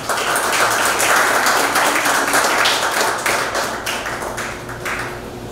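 An audience applauds to welcome a researcher at a 2018 research presentation in El Salvador, a steady dense clapping that runs several seconds and slowly thins out near the end.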